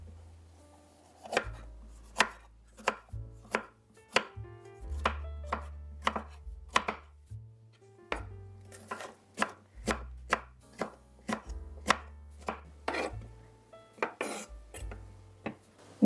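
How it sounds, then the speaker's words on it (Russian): A knife chops half an onion and half a bell pepper into medium cubes on a board for shakshuka, with steady, close, rhythmic taps that come in bursts with short pauses. "Средними кубиками режу половину болгарского перца."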